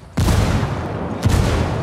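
A frag grenade goes off in the Ghost Recon video game, a loud close blast with a second burst about a second later, each trailing into a broad rumbling decay.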